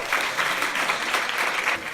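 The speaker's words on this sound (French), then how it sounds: "je vous demanderai d'applaudir tous les organisateurs de Pint of Science" Audience applause for the organisers at a Pint of Science event in Paris, a loud, close, continuous patter of many people clapping together with no voices on top.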